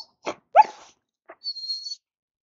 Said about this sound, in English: Would you stop, dog?